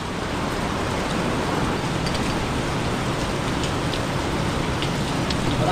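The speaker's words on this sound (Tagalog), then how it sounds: "Habang umuulan, full drip." Heavy rain during a strong typhoon, falling in a steady, dense hiss with no breaks, close and fairly loud, with no voices.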